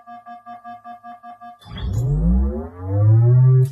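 A rapid pulsing electronic tone gives way to a deep, rising synthetic whoosh that swells and hums loudly: the energy shield charging sound from Halo.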